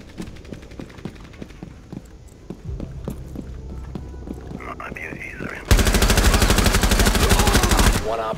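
Rapid automatic gunfire in the shooter game Rainbow Six Siege, a dense stream of loud shots erupting near the end after quieter rhythmic footsteps and clatter, with a player speaking briefly.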